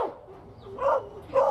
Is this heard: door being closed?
no